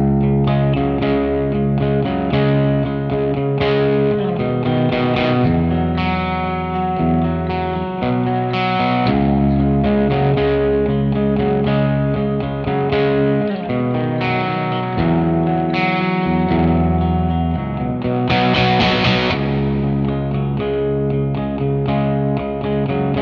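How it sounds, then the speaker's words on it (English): An electric guitar through a JVM amp plays continuously with a mild crunchy overdrive, its chords shimmering with chorus and washed in spacious reverb, in an ambient progressive rock style, with no voices. "I've switched to a light crunch on the JVM. We've swapped out the digital delay for a bit of chorus"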